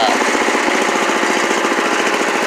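A Craftsman or Murray riding mower engine runs close by with a loud, rapid chugging putter, steady throughout under a continuous mechanical roar.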